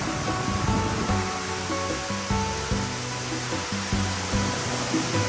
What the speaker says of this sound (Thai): นี่ค่ะมุมน้ำตกอีกมุมนึง